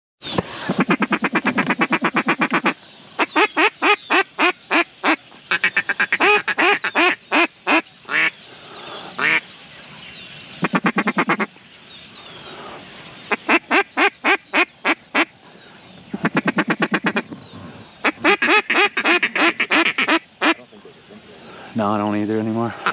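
Mallard ducks quacking loudly and repeatedly in bursts of rapid calls during a duck hunt, close and dominant, with people talking briefly between bursts.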